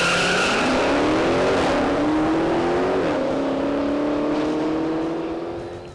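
A 2015 Dodge Challenger SRT Hellcat with its supercharged V8 screams around a race track, the engine rising through gears with a brief tire squeal, loud and close before easing off at the end.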